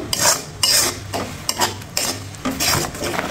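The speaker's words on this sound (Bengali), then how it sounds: "নারিকেলটা দিয়ে আমি একটু ভালোভাবে নাড়িয়ে চাইড়া এটা রান্না করে নেব কিছুক্ষণ" Repeated scraping strokes of a spatula stirring coconut in a metal wok, rhythmic and close, over a low sizzle.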